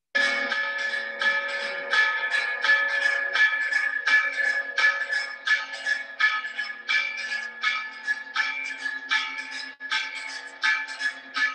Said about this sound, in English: the bells ringing from the Catholic church in the town square